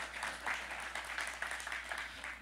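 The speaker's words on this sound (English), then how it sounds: "a round of applause for Michelle." An audience at the Helm Summit 2018 tech conference gives a round of applause after a talk, producing soft, fairly distant clapping in rhythmic pulses that hold steady throughout.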